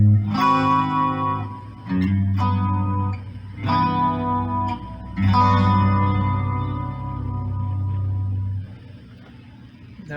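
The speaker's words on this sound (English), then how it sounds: "the amplifier on the clean channel with just a little bit of reverb set on it" A Fender Stratocaster played through the clean channel of an amplifier with a touch of reverb. A few plucked notes and chords sound and then ring out slowly with a soft tail, close and clear, with no talking.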